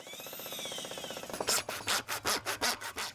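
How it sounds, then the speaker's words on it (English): A drill boring 2-inch holes through house siding and the rim joist above a basement wall, a motor whine giving way to rhythmic, loud grinding bursts as the bit cuts through wood. "2-inch holes are bored through the siding and rim joist just above the basement wall"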